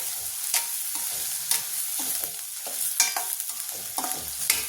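Onions with ginger-garlic paste sizzle steadily in a pan while a spoon stirs and scrapes at a regular rhythm, the frying hiss close and continuous, with no talking.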